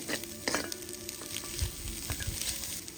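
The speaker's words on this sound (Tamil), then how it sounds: "இஞ்சி பூண்டு வாசனை போகும் வரைக்கும் வதக்கிட்டு" Ginger garlic paste sizzling in hot oil, a steady crackling fry with scraping stirs of a spatula in the pan, close and moderately quiet.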